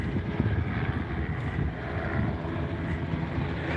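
A helicopter's rotor and engine drone steadily in the distance over Geelong, Australia, a broad continuous rumble with some wind noise mixed in.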